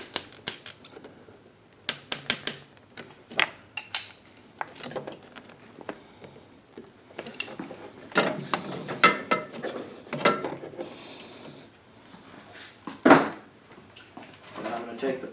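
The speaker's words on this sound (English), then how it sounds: "So I'll go ahead and crimp this clamp on." Metal hose clamp being crimped onto a fuel line during installation of an extended run fuel tank kit on a Champion 15000/12000 generator, heard as close, sharp clicks and clinks in scattered bursts with brief rustling between.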